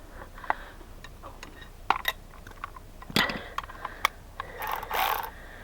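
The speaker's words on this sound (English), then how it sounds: "So we put a wrench on one side, we'll put a ratchet on the other side." Ratchet and wrench working a 15 mm bolt on the front differential of a Polaris RZR XP 1000 during a seal replacement, heard as scattered faint metallic clicks and ticks close by, with brief louder bursts of clatter.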